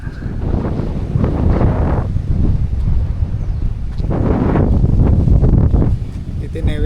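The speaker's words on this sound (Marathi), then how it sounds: "तुम्हाला ऐकू येत असेल वाऱ्याचा आवाज." A strong wind sweeps over village farmland, roaring steadily with rising and falling gusts that buffet the microphone throughout. No voices are heard.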